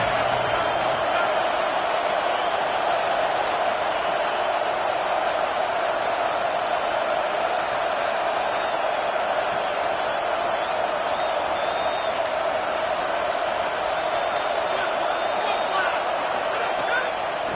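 Home crowd at a Clemson football game on a defensive third down, a loud, steady roar of cheering and noise that holds unbroken throughout with no rise or fall.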